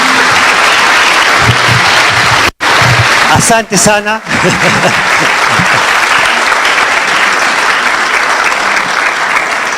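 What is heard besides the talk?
round of applause for the chief guests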